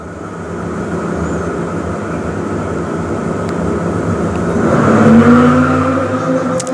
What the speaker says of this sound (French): vous avez profité du son des régimes moteurs de ces voitures Esprit F2000